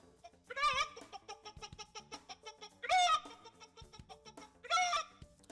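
A voice imitates a chicken's clucking in three short, loud bursts at a cluck-off contest at an annual chicken show, with a quieter rhythmic backing in between.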